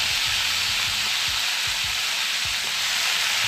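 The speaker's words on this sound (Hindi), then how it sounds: "ये भाजी कढ़ाई में डाल दिए" Spinach and red amaranth greens sizzle and hiss steadily in a hot kadhai, a loud continuous frying crackle with occasional stirring scrapes underneath.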